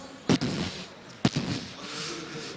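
Two heavy tank cannon shots in World of Tanks, loud sharp blasts about a second apart, each followed by a rumbling decay and lingering battle ambience.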